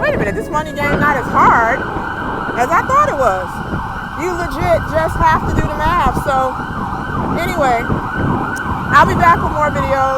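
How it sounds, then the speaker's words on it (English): Emergency sirens wail outside on a hot summer day, their rising and falling tones sweeping repeatedly behind someone talking close up, fairly prominent throughout. "Sorry about the sirens."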